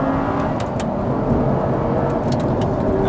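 An Audi R8 accelerates hard while overtaking on a country road, a loud steady engine roar with road and wind noise, heard from inside the car.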